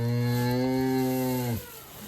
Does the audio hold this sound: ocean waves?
no